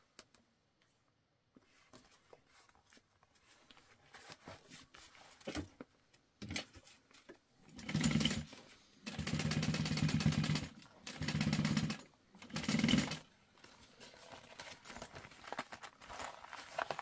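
A sewing machine topstitching a tote bag runs in four loud, close bursts of rapid mechanical whirring separated by short pauses, with quiet handling noises before and after.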